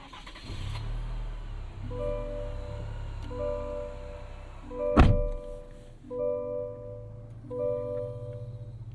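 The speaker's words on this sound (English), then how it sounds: "We'll leave the door open so you can hear the 4-cylinder fire to life." A Chevrolet Colorado Trail Boss 4-cylinder engine turns over: door chimes repeat in even beeps, a sharp thunk of the starter lands midway, and the engine catches and settles into a low idle beneath the continuing chimes.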